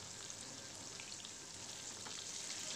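Fish sizzling steadily in hot oil in a pan after being flipped, a dense, even hiss of frying that stays close and constant throughout, with no voices over it.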